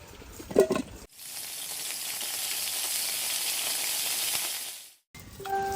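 Potatoes fry in a pan with a steady, close sizzle of hot oil lasting several seconds, bracketed by brief clinks and handling noises at each end.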